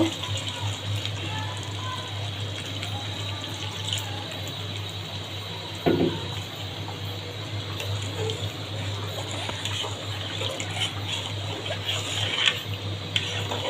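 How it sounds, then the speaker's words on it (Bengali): Water pours into mung dal that has been fried down with fat in a cooking pot, a steady rushing wash over a low hum, with a brief clatter midway. "এখন আমি ডাউলি পানি দিয়ে দেব।"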